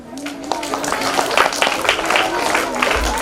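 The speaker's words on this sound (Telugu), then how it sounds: "క్లాప్స్." Audience applause at a school National Science Day event, a steady wash of many hands clapping throughout, fairly loud and close.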